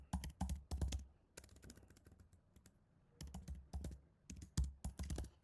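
Typing on a computer keyboard in bursts of quick, close key clicks with short pauses between runs, quiet and alone with no talk.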